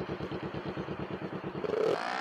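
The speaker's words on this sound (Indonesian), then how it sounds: "Ini ada motor, apa ini guys? Kayak Yamaha ya, R2. Oke, kita akan mencoba kecepatannya guys." A Yamaha R2 motorcycle engine revs with a rapid, pulsing putter that rises in pitch toward the end, close and moderately loud with no talk over it.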